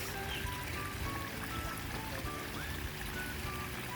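Steady trickling and pouring water runs continuously through a man-made creek, a gentle babbling flow heard alone at a moderate distance.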